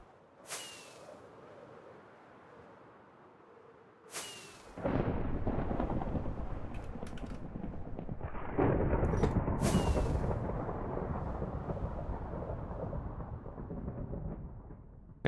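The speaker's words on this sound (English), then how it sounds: "Thunderstorm, chat. Thunderstorm." Thunder in a Minecraft Cobblemon thunderstorm: sharp cracks strike three times, followed by a long, heavy rolling rumble that swells and lingers for several seconds, loud and close with no voices.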